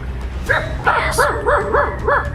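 A dog gives a rapid run of yipping barks, about six quick, evenly paced yelps over a steady low background hum, fairly loud and close, in a game scene.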